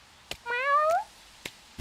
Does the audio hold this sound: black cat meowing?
yes